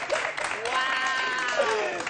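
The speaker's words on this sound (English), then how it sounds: "give them a big round of applause" Audience applause and cheering at a game show, a short burst of clapping mixed with excited voices and shouts from the crowd.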